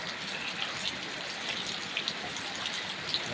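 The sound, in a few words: heavy rain falling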